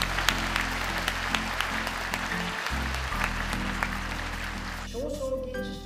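Sustained applause from an audience honouring award recipients at a Japanese national shigin and kenshibu recital competition, steady dense clapping over a low electrical hum, with a brief dip near the middle and a few voices at the end.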